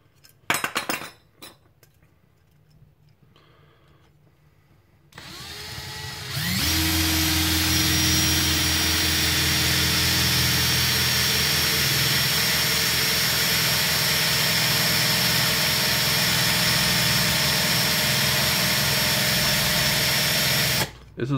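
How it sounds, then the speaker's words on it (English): A drill bores out a brass breech for a Nerf Retaliator: a few taps and clinks at first, then the motor spins up into a loud, sustained whine with a steady grinding tone that runs almost to the end. "This is the longest part of drilling the breech"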